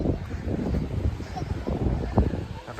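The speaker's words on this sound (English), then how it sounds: "I'm just actually holding on to my hat for a minute because it's really windy." Strong wind blowing outdoors on the seafront at St Ives, Cornwall, buffeting the microphone with steady low rumbling gusts throughout, while a person speaks close by.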